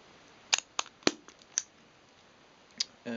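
Nikon F4 film camera shutter firing in manual mode at 1/250th, a handful of crisp, close mechanical clicks spaced irregularly across a quiet background.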